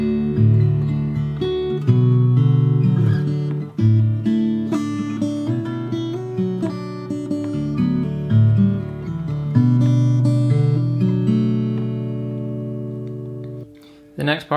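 Fingerstyle acoustic guitar plays the chorus of a song, with ringing plucked notes and bass lines carrying steadily at close range for about fourteen seconds before stopping near the end.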